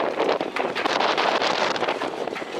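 Gusty wind at a sailing regatta on the coast at Puck, Poland, buffets the microphone in rough, uneven surges, a loud rushing roar with no other clear sounds.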